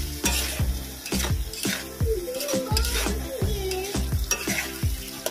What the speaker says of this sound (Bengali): ভালো করে মশলাটা কষিয়ে নিই।